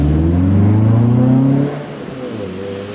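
A Nissan Primera 2.0eGT pulls hard on a test drive just after a clutch change, its mid-pitched engine note rising steadily and loudly before easing off into a quieter, lower hum as the revs drop.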